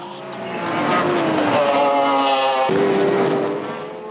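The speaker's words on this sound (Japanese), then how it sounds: "2周目、ラーク・マクラーレン61号車が2コーナーでスピン。" The Lark McLaren number 61 spins at Turn 2 at Sugo in the 1996 JGTC race, its engine note howling and sliding in pitch over squealing tires, loud and close, then fading.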